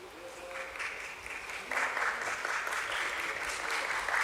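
An audience applauds at a stock exchange listing ceremony, with a sustained round of clapping that swells noticeably partway through and continues evenly, heard from the room at moderate distance.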